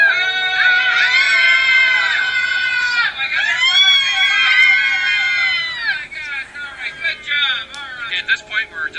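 Passengers on a tour boat scream together as loud as they can while passing through a canal tunnel, a long chorus of high shrieks in two waves, then fading into scattered shouts and chatter.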